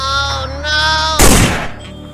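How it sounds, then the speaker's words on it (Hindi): One sharp, loud gunshot effect bursts out at close range in a cartoon horror story, cutting through a sustained musical tone and then trailing off briefly. "बॉब ने तो रॉड को गोली मार दिया"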